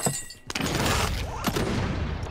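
Gunfire in the video game Plunder, a few loud sharp shots and booms at irregular intervals over dense game noise.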